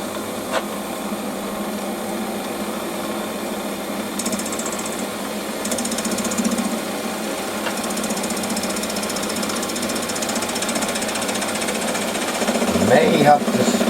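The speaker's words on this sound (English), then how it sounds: "So next step's going to be machine this face." A metal lathe in a home workshop machines the face of a shop-made quick change tool post part, a steady continuous cutting and motor hum with faint chatter, close and fairly loud throughout, growing slightly louder near the end.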